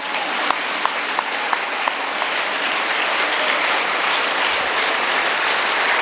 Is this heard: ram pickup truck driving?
no